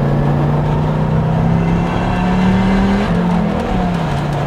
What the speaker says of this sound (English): I am gonna rev match between gears because I don't wanna damage his angle gear or his gearbox